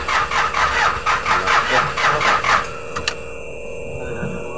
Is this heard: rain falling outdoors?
no